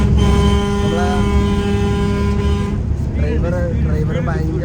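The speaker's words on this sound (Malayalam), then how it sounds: "ഡ്രൈവർ ഭയങ്കരമായിട്ട് ഹോൺ അടിക്കുന്നുണ്ട്." A bus horn sounds in traffic as a long sustained toot with layered tones, followed by shorter honks over the road noise and the bus engine rumbling underneath.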